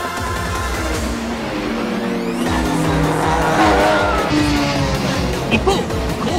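Japanese GT race cars, including a Honda NSX, Nissan GT-R and Mitsubishi GTO, brake hard side by side into the first corner of a 1995 track battle, engines roaring loudly with squealing tires and a race commentator talking over them.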